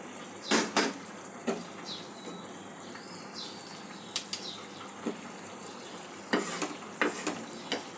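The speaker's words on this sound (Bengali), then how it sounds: "দিয়ে আরও কিছুক্ষণ সবজিগুলো পুরোপুরি সেদ্ধ হওয়া পর্যন্ত তরকারিটা একটু ফুটিয়ে নেব।" Katla fish curry with vegetables simmering in a pot on a gas flame: a soft bubbling bed broken by intermittent scrapes and clinks of a spoon stirring against the pot.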